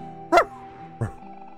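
A man imitating a dog with two short, voiced barking yelps, the first louder and the second softer about half a second later, over a faint steady background hum.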